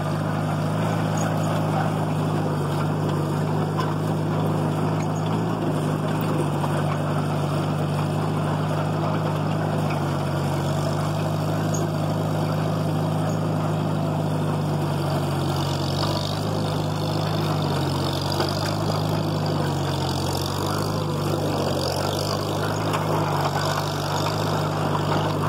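Farmall 350 LP tractor engine pulling a four- or five-blade fast-hitch disc harrow through hard ground, a steady, loud low-pitched drone with constant throbbing rumble and no pauses.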